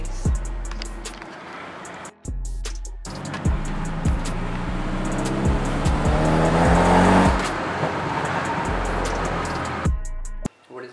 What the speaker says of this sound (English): So now let's start her up. Idle is sitting nice.